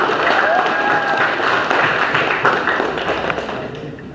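A school class applauds together, loud and steady clapping that fills the room close by, with a few scattered voices underneath and the clapping easing slightly toward the end.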